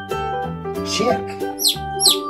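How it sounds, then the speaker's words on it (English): A farm toy makes a chick's chirps, two or three quick high tweets near the end, sitting over continuous background music. "Chick."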